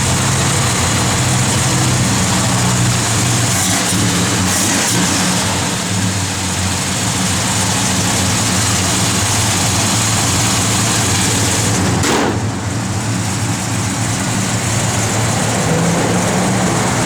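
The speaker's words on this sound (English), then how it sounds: "Car sounds awesome." A 1969 Plymouth GTX V8 idles up close with a loud, steady, deep rumble that holds for the whole stretch, with only a brief dip partway through.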